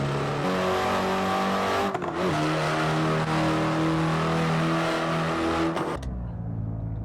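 A Hyundai Elantra N cruises with its engine humming steadily and loudly up close, pitch rising through the gears with a brief dip near the middle and a drop-off as it eases near the end.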